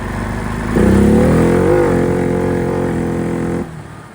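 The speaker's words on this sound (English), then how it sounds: "So I'm gonna go full throttle" A CFMOTO CForce 520L ATV, a 500cc machine that has lost power, is held at full throttle: the engine note jumps up, holds a steady, loud mid-pitched drone with a slight rise, then cuts back near the end.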